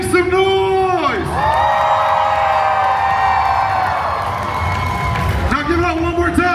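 At the Midsummer Scream Halloween convention, a crowd cheers and whoops loudly, a sustained swell of shouting and high-pitched whoops with a voice over the noise at the start and the end.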